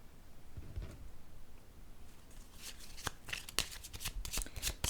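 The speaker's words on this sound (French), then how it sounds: "Je vais déposer une autre carte ici." Tarot cards are shuffled and handled, then slapped down one after another in a quick series of crisp, close-up snaps and flicks during a reading, with no talking.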